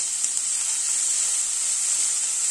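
Four small, finely chopped onions fry over a high flame in a pan, giving off a steady, even hiss of sizzling with no voices.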